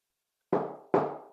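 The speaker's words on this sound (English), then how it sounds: "3 slow knocks." Two sharp knocks on an apartment door, each followed by a short ringing decay and spaced about half a second apart, heard close and alone over silence, with what may be the start of a third at the very end.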